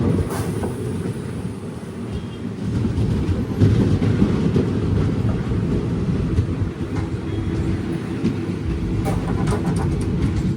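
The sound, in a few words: Chennai Egmore Express train arriving at Kottarakkara railway station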